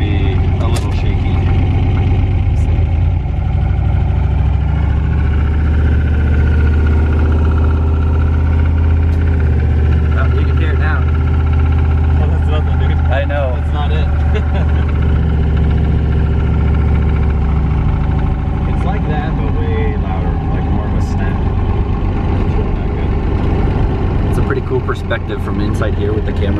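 Car engine running with the camera mounted on the turbo inside the engine bay; a loud, steady low rumble and vibration with a continuous mid-frequency hum, constant throughout with faint ticks.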